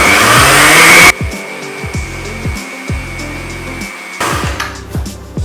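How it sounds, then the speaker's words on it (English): A kitchen blender whirs through cold brew coffee, vanilla sugar syrup, milk and two scoops of ice cream, a loud steady motor drone that starts abruptly, changes pitch in several uneven pulses, then surges again near the end. "I'm going to blend that up."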